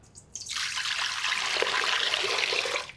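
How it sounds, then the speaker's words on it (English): Water pours steadily into a stand-mixer bowl before flour goes in for ciabatta dough, a close, continuous splashing trickle lasting a few seconds and then stopping, with no talking. "I put my water first"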